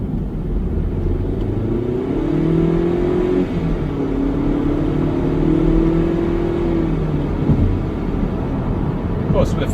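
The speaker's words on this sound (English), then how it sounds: "I tried it in sports mode, and it accelerates very fast" A small-engined BMW 116i accelerating hard in sports mode, its engine note rising steadily as it climbs through the gears, heard from inside the cabin with a steady rumble underneath.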